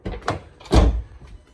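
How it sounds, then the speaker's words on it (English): A door being opened during a chiller installation, with a couple of short clunks and then a broader, louder rattling sweep in the middle, close by and with no one talking. "Gotta open up the door again"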